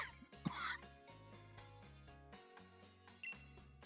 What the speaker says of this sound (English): Gotta love the quitting smoking coughs.